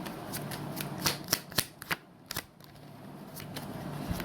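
Tarot cards being shuffled by hand, a run of sharp riffling snaps and soft slides close up, with a brief pause midway before the shuffling resumes, no voice.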